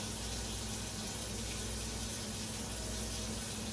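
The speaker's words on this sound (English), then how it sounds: "Then just kind of rinse the brush off and go again." Steady running tap water pouring over a makeup brush being rinsed at a sink, a continuous close hiss with no talking.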